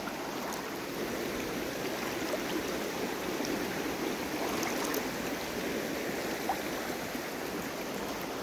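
Water sloshing and swirling steadily around boots while someone wades slowly through deep floodwater during a storm on a homestead, a continuous close watery churn with no talking.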